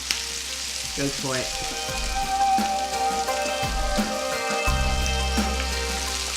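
Food stir-fries with spice powder in a hot pan, a loud continuous sizzle with scraping and clattering of the spatula as it is tossed, while a person speaks briefly over it.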